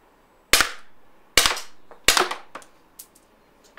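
A RAM Combat CO2 pistol running low on gas fires three sharp, loud shots about a second apart, each followed by fainter ringing impacts and clatter trailing off.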